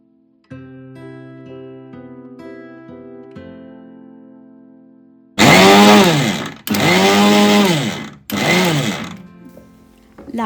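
Mixer grinder whirring through peanut chutney powder with crushed garlic in a home kitchen, three loud motor bursts separated by short pauses, following soft tonal music.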